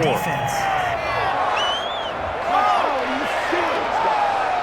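Stadium crowd in Madden NFL 21 on next-gen Xbox reacting to a penalty call in a Jaguars versus Cardinals game, a loud swelling roar with whistles and shouts running under a commentator's talk.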